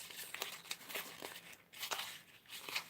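A paper craft tag being crumpled and torn by hand, quick close crinkling bursts and rips in an irregular rhythm, fairly quiet with no voices.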